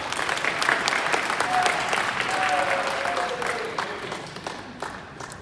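Audience applause in response to a call to clap for capturing customers, a dense steady wash of many hands that fades slightly toward the end, with a voice briefly audible over it.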